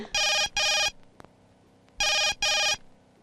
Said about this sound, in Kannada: ಲೋಕನಾಥ್ ಸಾಹೇಬ್ರೆ ಫೋನ್ ಮಾಡಿದ್ದಾರೆ